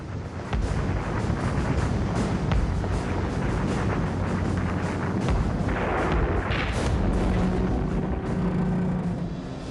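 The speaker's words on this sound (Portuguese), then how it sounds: "Do convés do Tirpitz, os canhões desencadeiam uma barreira de fogo" Rapid, dense bursts of anti-aircraft cannon fire from the battleship Tirpitz form a continuous rumbling barrage, heavy and close, with blasts overlapping throughout.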